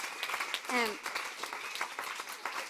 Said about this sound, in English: knew I'd get a cheer for that